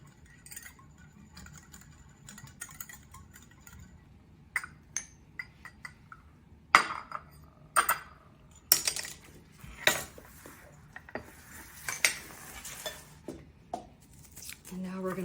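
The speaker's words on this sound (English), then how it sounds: "I'm gonna mix this all up." Utensil clinking and scraping against a bowl while Dijon mustard and olive oil are mixed, sharp irregular clinks growing busier partway through, close and fairly quiet with no talk.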